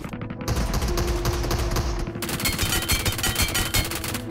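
Bursts of rapid gunfire in a shooting video game, loud and close, firing in quick strings with a brief gap before the shooting resumes.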